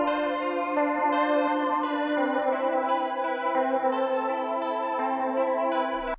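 A dense, washed-out electric guitar drone sustains steadily, heavily smeared with reverb and effects, loud and continuous before cutting off at the end.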